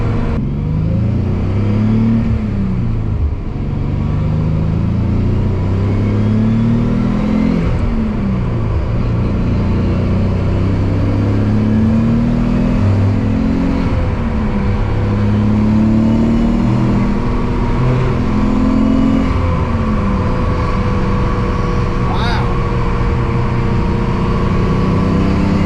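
A twin-turbo Nissan 300ZX with a boost leak accelerates on the road, its engine rising and falling through repeated revving pulls, loud and close throughout with steady road and wind rumble.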